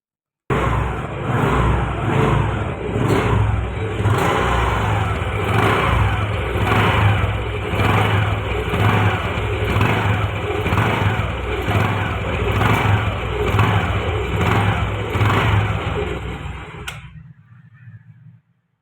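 A used TVS Jupiter scooter engine in good running order revs steadily and loudly, close by, with a pulsing exhaust note from the silencer that runs continuously for about seventeen seconds, then cuts off abruptly.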